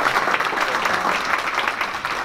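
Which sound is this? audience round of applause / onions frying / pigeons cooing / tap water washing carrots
audience round of applause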